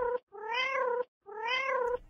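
A cat meows in the video game Touch the Cat, two long rising-and-falling meows in a row, clear and close, separated by a short silence.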